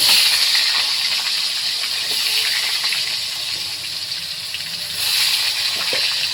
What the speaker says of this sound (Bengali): এখন দিয়ে দেবো কেটে রাখা ডুমো ডুমো করে আলু।